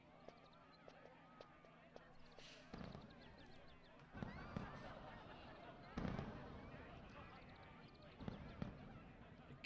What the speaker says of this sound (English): Oh, there's fireworks or gunshots?